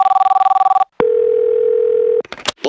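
A telephone dial tone, then a steady ringback tone while a call is placed to a phone number, loud and continuous, with a short burst of other sound at the end.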